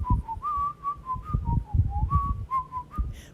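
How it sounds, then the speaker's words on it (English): Someone whistles a tune alone, a clear, close melodic line of sustained and shifting notes over soft background rumble, lasting a few seconds. "No, that's when they whistle."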